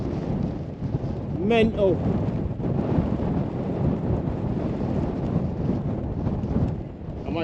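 Strong, gusty wind on the open Cheviot Hills in Northumberland buffets the microphone with a loud, continuous roar, and someone speaks briefly early on.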